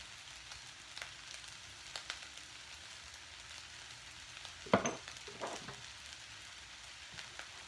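Seasonings are stirred into vegetable fried rice in a pan, with a soft steady sizzle and occasional scraping taps of a utensil, faint and close.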